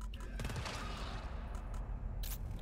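Sentry gun fire in a modded GTFO-style co-op shooter, a fast dense rattle of shots running steadily throughout at moderate distance, with game ambience behind it.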